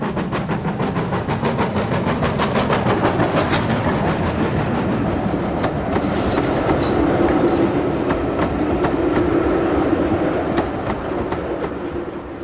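The GWR Manor class steam locomotive Foxcote Manor hauls a freight train on the Llandothrin Railway. Rhythmic wheel clatter and a steady rolling rumble stay loud and continuous throughout.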